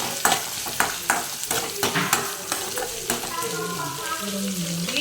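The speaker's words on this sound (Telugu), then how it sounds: "ఇప్పుడు దీన్ని బాగా వేయించుకోవాలి." Chopped onions frying in a pan, with quick spatula scrapes and stirring over a loud, steady sizzle; a voice speaks over the second half.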